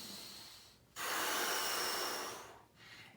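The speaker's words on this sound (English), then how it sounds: "Big nasal inhale." One big, deep inhale drawn through the nose by someone standing tall against a wall during a posture exercise, a long, close, breathy rush that swells and then tapers off.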